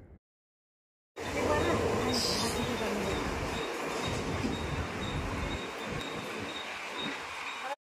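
A Mumbai commuter train from Kurla rumbles along at steady speed, a dense continuous roar of wheels on track with a faint metallic squeal early on and crowd noise beneath.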